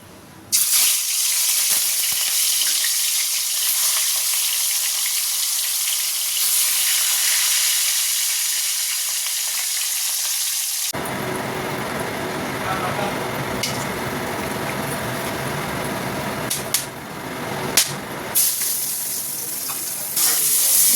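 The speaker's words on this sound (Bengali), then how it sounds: "গরম মশলা ফোড়ন দিলাম, দিয়ে পেঁয়াজটা দিয়ে দিলাম, দিয়ে একটু ভাজা ভাজা করে নেবো লাল লাল করে" Whole garam masala and onions frying in a pan, a bright steady sizzle that shifts to a denser, louder crackle as the onions hit the hot oil partway through.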